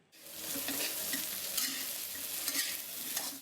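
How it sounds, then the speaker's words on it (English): Chopped eggplant stir-fried in a wok for a vegan Thai dish, a steady loud sizzle running throughout with repeated scraping strokes of the spatula, close and with no voices. "Throw in a big handful of chopped eggplant and stir."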